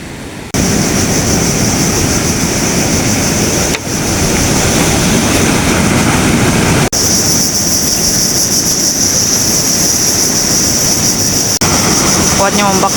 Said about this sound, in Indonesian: Besar betul dia punya ombak.